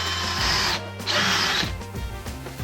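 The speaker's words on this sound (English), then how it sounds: "Using the correct drill bit makes the aluminium feel like butter." A drill bit boring through aluminium arms for an auxiliary fuel tank on a Honda C90. It gives a close, whirring grind in two bursts with a brief break between them.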